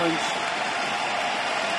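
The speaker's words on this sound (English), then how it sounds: "it's a standing ovation here for Japan" A French crowd gives a standing ovation at the World Senior Karate Championships, dense sustained applause filling a large arena, with a commentator's voice talking over it.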